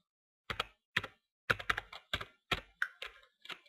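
Keystrokes on a computer keyboard while a command is entered for a Minecraft server, as a series of close, crisp clicks in short uneven bursts over quiet silence.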